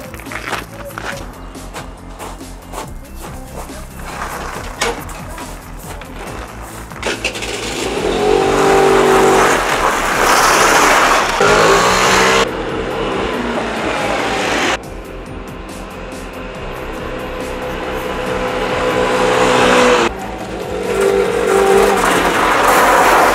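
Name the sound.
moped engine while riding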